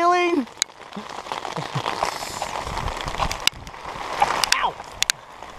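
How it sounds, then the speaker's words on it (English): Hail pelts down during a mountain storm, a dense steady patter heard up close, with a brief exclaiming voice at the start and a few sharp knocks. "Oh man, it is hailing!"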